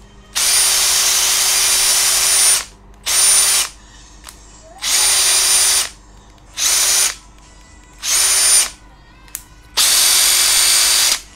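A Makita TD141D cordless impact driver fires in about six loud, close bursts of a second or two each, a dense high whir and hammering with brief silences between.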